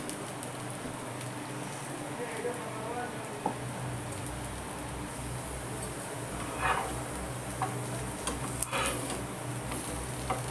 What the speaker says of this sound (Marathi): सगळे एकदाच मी पी पीठ लावून घेतलं सगळ्या कापांना आणि मग तळायला घेतले